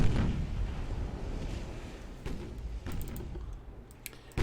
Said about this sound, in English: As long as he keeps firing at the battleship for now, I'll be pretty content with that.